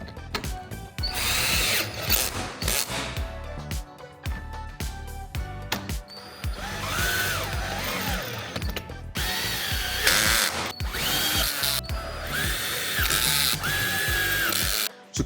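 A power drill tightening bolts on a Korniche roof lantern during installation, whirring in repeated short bursts with ratcheting clicks, close and loud throughout with brief pauses between runs.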